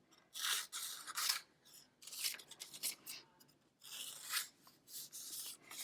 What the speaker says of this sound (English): what kind of shapes can you just make up by cutting your paper randomly?